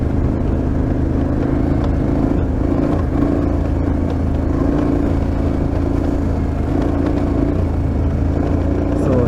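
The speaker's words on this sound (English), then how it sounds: "So after a long stretch of pavement, I'm back to a dirt road." KTM 1290 Super Adventure R motorcycle ridden on a loose sandy dirt road, a close, continuous rumbling engine drone with wind and road noise, steady and loud throughout.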